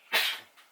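A single sharp human sneeze, close and loud, a quick explosive burst that fades quickly, followed by a faint breath.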